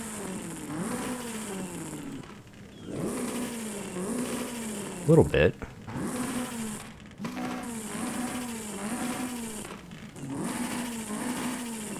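Toyota AE86 Trueno fitted with a 2JZ engine, revving and shifting in Forza Horizon 5, rising and falling engine tones repeating steadily under ongoing talk, with a brief sharper burst midway.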